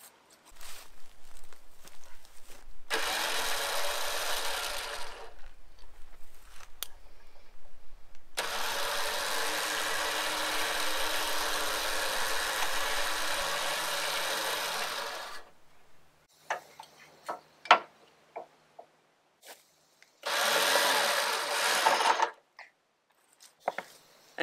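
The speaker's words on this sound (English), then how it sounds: "I'm going to winch out and disconnect and then winch back in." Trail vehicle winch reeling its line out and then back in to pre-tension it, heard as two long steady mechanical whirring runs with a short clicky pause between and a brief final burst.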